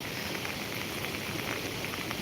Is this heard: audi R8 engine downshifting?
no